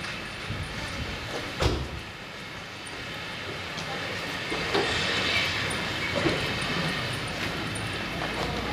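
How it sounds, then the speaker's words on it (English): A train rumbles steadily past through Watchet Station with a broad rushing roar, occasional clanks and thumps from the wheels, continuous and moderately loud throughout. "Sounds of another train passing through Watchet Station."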